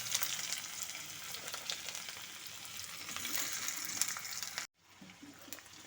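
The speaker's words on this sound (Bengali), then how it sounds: "এখন ঘিয়ের সাথে পেঁয়াজটাকে একটু ভাজা ভাজা করে নেব" Chopped onion frying in ghee with cardamom, cinnamon and cloves, a steady close hiss and crackle of sizzling that runs without a break, cuts out briefly near the end, then resumes.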